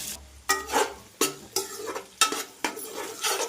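Onions frying in ghee with cloves and cinnamon for bagara rice, a sizzling base punctuated by loud, regular spatula strokes scraping and knocking the pan about every second.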